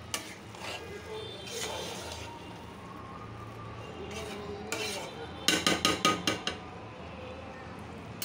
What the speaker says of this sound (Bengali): পোলাওটা নাড়া দিয়ে দিচ্ছি।